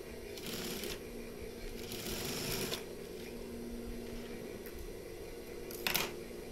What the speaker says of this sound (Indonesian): silakan teman-teman dijahit saja seperti ini supaya lebih mudah nanti saat pemasangannya